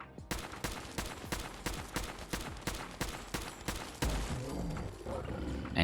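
Rapid semi-automatic fire from a Winchester 5mm range rifle in Fallout 4, roughly a dozen loud, evenly spaced shots in quick succession, followed by a denser burst of noise near the end.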